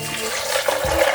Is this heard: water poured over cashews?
yes